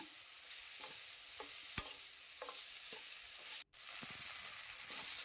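Tomatoes frying in a pan and being stirred until soft: a faint, steady sizzle with occasional soft scrapes and taps of a spoon, interrupted by one brief silence near the middle.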